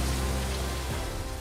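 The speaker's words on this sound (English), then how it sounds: "rain dumping in parts of SoCal tonight" Rain falls steadily in Southern California at night, a dense, even patter and hiss that stays constant throughout with no talking.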